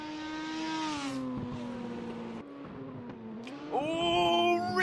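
Race car engines in a sim racing game at a Bathurst masters grand final with VL Commodore and RX-7 touring cars, a steady high-revving drone that shifts pitch as cars pass and accelerate, fairly loud and continuous.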